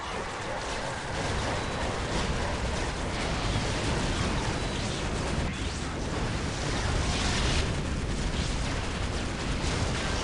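Explosions and weapon fire from a Warhammer 40k Dark Crusade battle with Eldar forces, a dense, continuous roar of blasts and gunfire filling the whole stretch at steady loudness.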